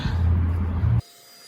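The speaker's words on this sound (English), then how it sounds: "just gonna vacuum all this junk" A vacuum cleaner runs with a loud, steady whine and hum while cleaning debris during a Mitsubishi Eclipse air filter replacement, then cuts off abruptly, leaving near silence.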